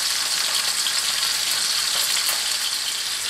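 Corned beef browns in a hot pan, giving a steady, dense sizzle and crackle of frying meat that stays even and fairly loud throughout with no talking.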